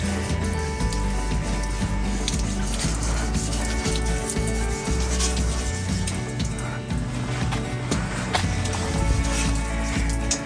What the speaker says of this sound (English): then once we're done wet sanding,